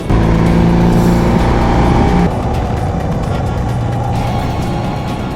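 A 2017 BMW R nineT Racer motorcycle engine drones loudly and steadily while riding, close and continuous, then drops to a lower, rougher pitch as the revs change partway through, with wind rush mixed in.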